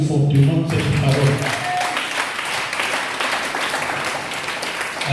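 A church congregation bursts into loud, sustained applause and cheering during a Sunday morning service, with some voices calling out over the steady clapping throughout.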